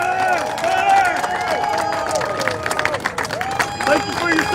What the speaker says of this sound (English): Please give us some applause for Joe Katz.